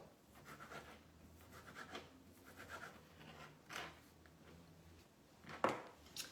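Rough chopping of chorizo slices on a board makes quiet, scattered knife taps and scrapes, a few sharper cuts standing out against a faint, hushed background.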